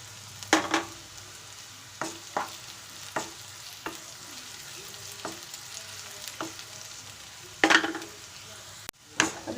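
Onion with crushed ginger and garlic frying in a pan, a soft sizzle under scattered spoon scrapes and clinks as it is stirred, one sharp knock near the end.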